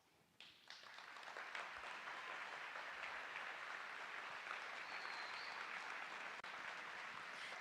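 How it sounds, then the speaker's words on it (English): An audience at Lancaster's 2023 State of the City event applauds the vendors, clapping that swells within the first second into a sustained, even roar and holds steady to the end. "could you please stand up as we give you a round of applause?"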